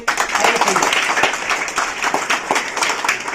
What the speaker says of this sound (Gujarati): દરેક જણા એના માટે જોરદાર તાળી આપે